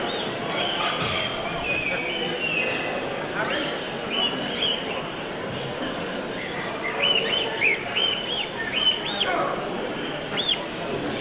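Canaries at an indoor bird show give bright, scattered chirps and short trills over a murmur of people talking nearby in the hall.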